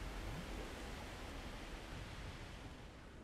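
Water floods in to fill a space in Rise of the Tomb Raider, a steady, dense rushing hiss that holds at an even level throughout with no talking.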